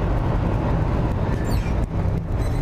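A 1965 Chevrolet C20 pickup carrying a 1975 Dolphin camper drives along with a loud, continuous engine drone and road rumble heard from inside the cab, steady with no talking.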